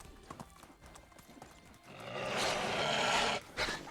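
Donkey hooves clip-clop in the Medieval Dynasty video game, scattered light steps at first, then a louder dense rush of movement and rustling, close and continuous, with faint voice in the background.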